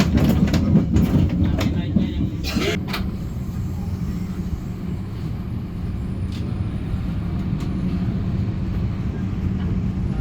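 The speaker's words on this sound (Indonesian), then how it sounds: "saat ini kereta saya persiapan masuk stasiun Lempuyangan" The KA Bengawan train pulls into Lempuyangan station in Yogyakarta, heard from inside as a loud, steady rumbling roar with sharp clicks and clatters in the first few seconds.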